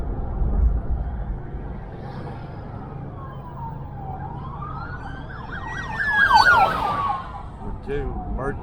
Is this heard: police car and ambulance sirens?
yes